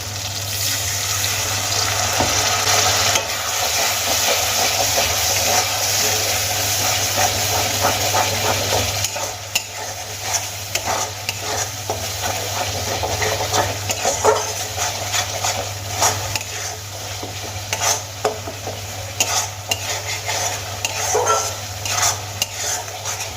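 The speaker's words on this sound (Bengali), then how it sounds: "আমি মশলাগুলোকে কষিয়ে নেব" Ground spices stirred with onion, ginger, tomato, green chilli and a splash of water in a pan for a fish head curry. Steady, close scraping and stirring runs throughout with a soft wet undertone and no talking.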